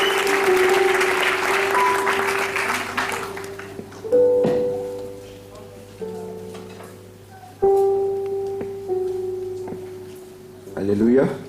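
A congregation applauds at a church ordination ceremony in Yopougon, dense clapping that fades as sustained organ-like tones and a voice take over, with later short swells of applause.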